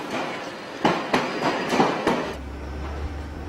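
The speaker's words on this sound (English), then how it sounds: "driving a Northern Line train for the first time in 3 months" A London Underground Northern Line train runs on an overground stretch, giving a steady rolling rumble with several loud rhythmic clacks of wheels over rail joints, then a low humming drone near the end.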